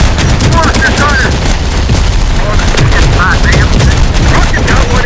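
Dense, loud gunfire in the video game Terminator Dark Fate Defiance, with rapid bursts and booming impacts layered over one another and radio-style voices calling out beneath the shooting.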